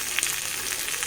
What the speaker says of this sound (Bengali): মাছটা ভাজাও বসিয়ে দিয়েছি